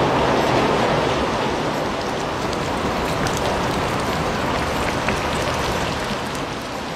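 Rain falls steadily on the tin roof of a mud house, a dense, even patter of drops that holds at a constant level throughout with no voices.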